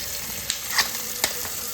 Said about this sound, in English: So it's a wild shark steaks, and I'm going to wash this steak.